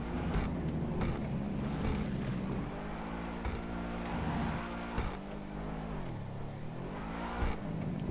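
A car engine in GTA 5 Online hums and revs steadily, its pitch rising and dipping as it accelerates, continuous and fairly close with no talk over it.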